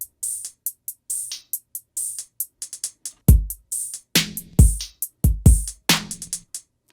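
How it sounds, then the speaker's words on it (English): A programmed drum beat in Logic Pro X, at first closed hi-hat ticks alone, then joined by deep kick drum hits with an open hi-hat filling a gap, crisp and steady with no talk. "And that missing spot I filled with the open hi-hat."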